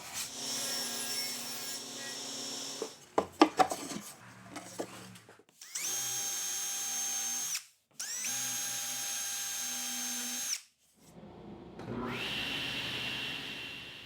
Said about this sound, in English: pre-drill and countersink the holes to attach them to the cleats